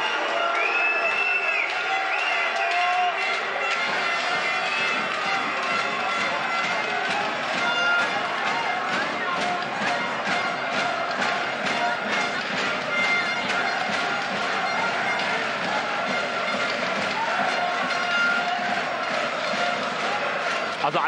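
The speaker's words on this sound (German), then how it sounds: "Wir werden jetzt richtig süß beschimpft vom Publikum." A packed handball arena roars steadily at the 2011 EHF Cup final between TV Großwallstadt and Frisch Auf Göppingen, with loud crowd noise, rhythmic stamping and shouts, and a few whistles running unbroken the whole time.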